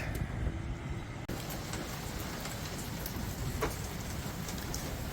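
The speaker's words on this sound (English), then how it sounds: "good morning from a very, very rainy and very windy Falmouth Bay" Heavy rain pours steadily over a very windy Falmouth Bay, a dense wash of drops drumming on surfaces, with a brief thud near the start and a few louder splashes.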